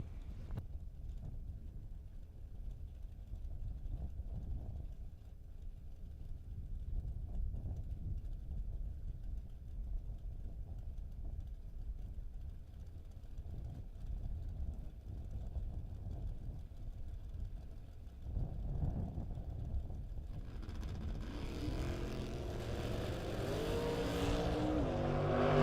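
Drag racing at a strip event with a 2007 S&W Dragster on the right lane: a long, low engine rumble with wind buffeting at a distance, building into a loud, harsh roar near the end.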